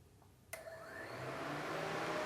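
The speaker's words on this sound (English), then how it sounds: "Take our scan tool and we're going to turn on the radiator fan." A car radiator cooling fan is switched on with a scan tool: a click, then a whooshing whir that spins up and grows steadily louder over two seconds, close and with no talk.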